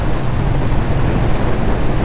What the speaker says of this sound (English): Oh my God, it's windy up here.